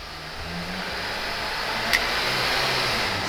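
A Samsung SM5 New Impression SE engine runs loudly and steadily, its pitch climbing slightly as it revs from 1000 toward 4000 RPM, with a brief click partway through and no voices.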